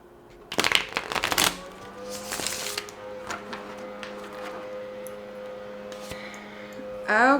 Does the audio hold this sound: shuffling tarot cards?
yes